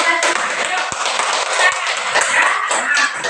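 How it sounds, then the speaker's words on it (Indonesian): Classroom students clapping for a group presentation, a steady burst of many hands close by, with a couple of sharper taps standing out and voices faintly mixed in. "sekali lagi tepuk tangan"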